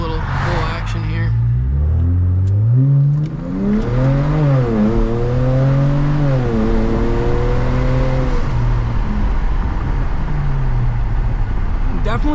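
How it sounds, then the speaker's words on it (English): A BMW 335i accelerates hard on a back road, its engine rumbling and rising in pitch through the gears, with a brief dip near three seconds where it clunks into second before pulling strongly again. "Definitely getting a little clunk going into second gear under hard power."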